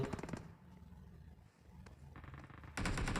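Bursts of rapid gunfire crackle at the start and end, with sparse scattered shots in between, game audio from PUBG Mobile at moderate volume.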